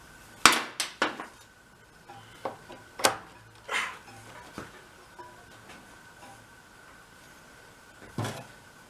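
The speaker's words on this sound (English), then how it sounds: "Think hit it with a hammer?" A hammer strikes a junked snowmobile part in a string of sharp metallic clanks, with several quick hits at first, then scattered blows with pauses between them, heard up close.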